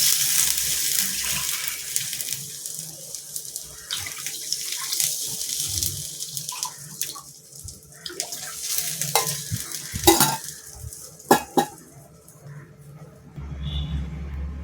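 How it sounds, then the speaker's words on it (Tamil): Water pouring into a pan of freshly roasted semolina while making rava kesari, a close, continuous splashing and stirring wash with sizzling bursts and a few sharp clatters near the end, no talking. "2 டம்ளர் தண்ணி ஊற்றிக்கிறேன்."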